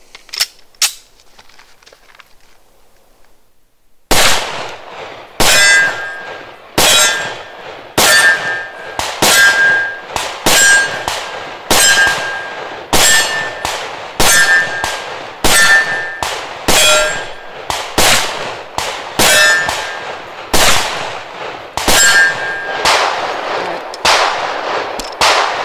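Springfield XDm 4.5 10mm pistol fired about fifteen times outdoors, each loud sharp report ringing off a metal target, shots spaced roughly a second apart after a few quiet seconds.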